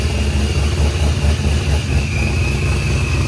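A freshly built LSX V8 in a 442 runs steadily on its first start-up, a loud, close, continuous rumble with a strong low-end throb and a high whine, never dropping off.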